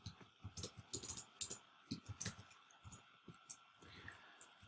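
Quick bursts of typing on a computer keyboard, soft and close, with uneven clusters of key clicks and brief pauses between words.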